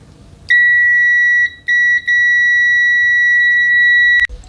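Klein MM325 multimeter in continuity mode at maximum output, giving a loud, piercing high-pitched beep that starts, breaks briefly twice, then holds steady for about two seconds before cutting off.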